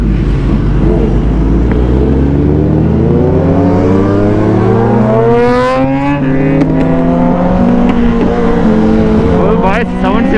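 A Kawasaki ZX-10R and a BMW S1000RR with Arrow exhaust accelerating on a highway, engines climbing steadily in pitch through the gears with loud, close, rising howls and brief shift drops, while wind noise roars over the recording.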